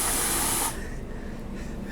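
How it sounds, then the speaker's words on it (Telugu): A powerful bio-toilet flush aboard an Indian express train gives a loud, sharp hissing spray for under a second, then cuts off, leaving quieter train rumble. "సో ఫ్లష్ కూడా మంచి పవర్ఫుల్గా పడుతుంది ఫ్లష్."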